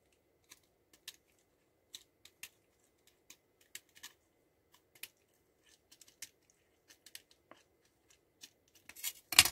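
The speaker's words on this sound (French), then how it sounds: "vous venez découper les deux qui dépassent" Scissors cut paper in a series of short, quiet, sharp snips spaced irregularly, growing denser and louder in a brief burst at the end, with no talking.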